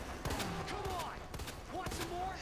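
Handgun fire in the video game Resident Evil 2, several sharp shots in quick bursts over a busy game soundtrack with other effects.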